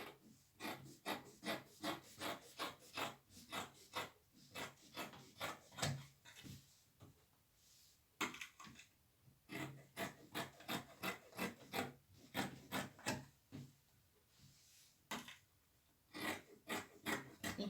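Scissors cutting out a fabric sleeve for sewing, a run of rhythmic close snips and rasping cuts with short pauses between bursts, no voices.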